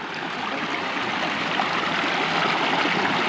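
A river stream near a village in Kalongan, Ungaran rushes steadily, giving a continuous broadband wash of flowing water that stays loud and close throughout with no voices.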